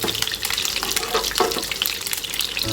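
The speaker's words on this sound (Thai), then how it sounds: "ล้างกระทะไม่แห้ง" Water runs steadily from a tap into a wok, splashing and hissing as the surface is rinsed, with a continuous, close rushing sound.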